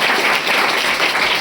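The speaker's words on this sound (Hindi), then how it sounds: "एक बार ताली बजाओ इसके लिए।" Schoolchildren and staff applaud a 7th-class student at a school assembly: a steady, dense wash of clapping, fairly loud and close, with no break across its short span.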